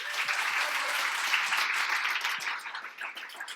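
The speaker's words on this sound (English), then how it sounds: "Please welcome them with a big round of applause." Loud, sustained audience applause at a coding bootcamp demo day, many hands clapping at once, steady for a few seconds before thinning slightly toward the end.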